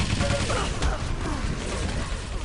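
Machine gun fire in a Quake Live team deathmatch, a dense burst of rapid gunshots and crashes mixed with game effects, loud and close, with commentary talk partly over it.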